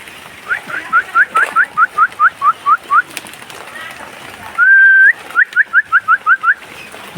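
A sick bulbul chick in the open calls in quick series of short, rising whistled chirps, about a dozen, broken midway by one longer steady whistled note, close and fairly loud over faint background noise.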